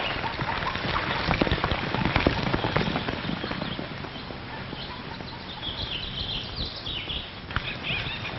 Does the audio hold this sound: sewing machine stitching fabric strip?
no